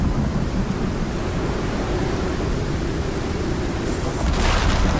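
A lightning storm in the survival game Icarus gives a loud, continuous thunder rumble that rolls steadily for several seconds and swells a little toward the end.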